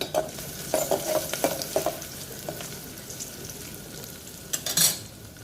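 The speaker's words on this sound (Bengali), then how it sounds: "পেঁয়াজ আর রসুন তেল দিলাম পেঁয়াজটা ভালো করে ভাজবো" Onion and garlic fry in hot oil for dal while a spatula stirs them in a pan, giving quiet sizzling with several sharp scraping strokes, then a loud clatter near the end.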